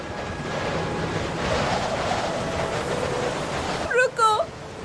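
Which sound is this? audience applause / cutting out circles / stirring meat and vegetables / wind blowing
wind blowing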